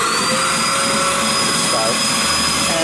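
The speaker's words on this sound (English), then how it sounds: "that starts the vacuum." A Bissell Aeroswift vacuum cleaner runs steadily and loudly up close, a continuous high motor whine and airflow roar with no break.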